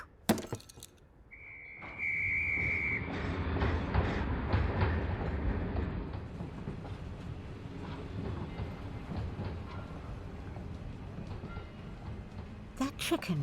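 A train rides along the rails with a steady rumbling clatter and a brief high whistle tone early on, and faint voices and noises mixed in.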